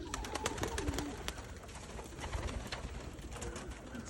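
White doves coo softly and continuously inside a dove loft, with many birds heard close together and their low, rolling calls overlapping amid wing flutters and rustling.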